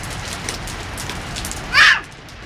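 Steady rain falls outdoors while a child plays in it, a constant soft hiss of drops on surfaces with one brief louder splash near the end.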